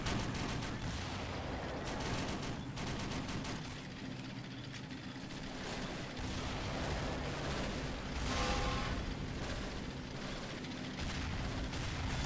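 Dense battle din from the WWII strategy game Men of War during an assault on a German hill fort, with constant gunfire, heavy impacts and explosions from anti-tank weapons blending into a loud, continuous roar, and no speech.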